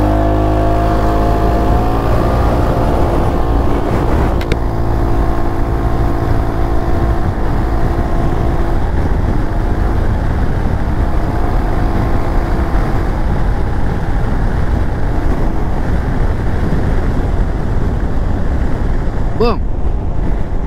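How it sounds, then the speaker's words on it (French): A Peugeot XP400 GT scooter pulls away from a standing start and accelerates, its engine droning steadily and rising in pitch under heavy wind rush for about twenty seconds. "On va se faire un petit départ arrêté. Je vais vous dire ce que j'en pense de l'accélération de cette machine."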